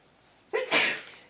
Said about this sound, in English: I need to sneeze, excuse me